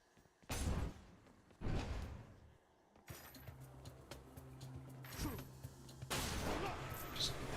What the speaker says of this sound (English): Just a big explosion that stuns enemies.